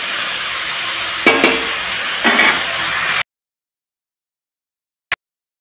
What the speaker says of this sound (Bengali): তো ভালোভাবে দেখো নেড়ে চেড়ে নিচ্ছি।